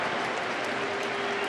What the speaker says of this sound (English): applaud him on his way off the field